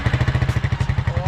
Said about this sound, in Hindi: अब बाइक करते हैं हम स्टार्ट